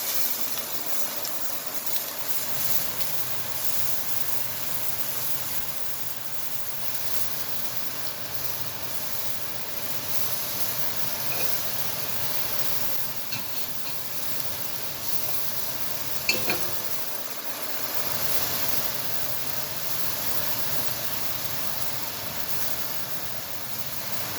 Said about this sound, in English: we'll sear our final side there